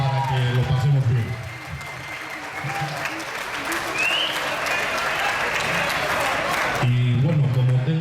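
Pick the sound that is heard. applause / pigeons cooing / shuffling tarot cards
applause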